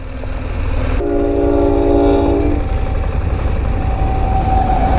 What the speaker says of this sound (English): He gave us a little toot of his horn.